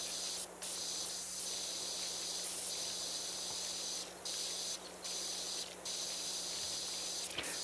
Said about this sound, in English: Spray down this area.